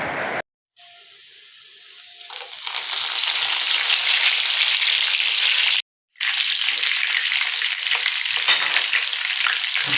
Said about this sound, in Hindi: बहुत ज़्यादा ऑयल गर्म था और बहुत ज़्यादा पटाखों की आवाज़ें आ रही थी, छींटे पड़ रहे थे